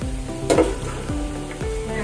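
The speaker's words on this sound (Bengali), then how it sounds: "মাংসটা কষছে," Duck meat sizzles and is stirred in a pan for a traditional braised duck curry, a loud close frying hiss broken by a few scraping strokes of a spoon, with no voices.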